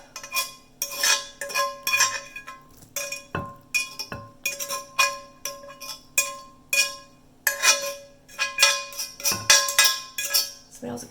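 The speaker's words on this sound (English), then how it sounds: "I need something to scrape it out with. We'll use this fork we beat the eggs up with." A fork scrapes egg and onion out of a bowl, giving repeated close clinks and scrapes against the dish in a steady rhythm of short strokes, some louder and sharper than others.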